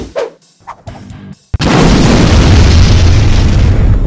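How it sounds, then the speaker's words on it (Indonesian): A grenade goes off in the Free Fire game: one loud, close boom that erupts abruptly after a few quieter game sounds, then roars on as a sustained, full rumbling blast. "Makan nih granat"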